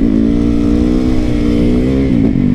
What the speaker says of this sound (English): Maybe I'll bust a wheelie right here.